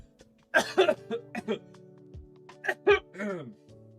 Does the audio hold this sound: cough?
yes